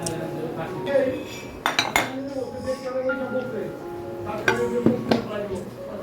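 Dishes and cutlery clink and clatter as cooked food is served and arranged on a home dining table for a family gathering, a few sharp knocks rising over steady background bustle and faint talk.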